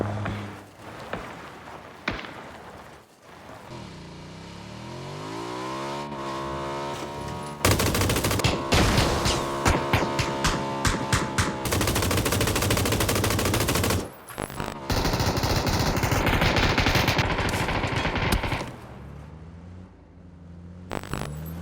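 A light machine gun fires in PUBG, a shooter video game, on a bridge map, with heavy recoil: long, loud, sustained automatic bursts separated by short pauses, with other shots and ambient game sound around them.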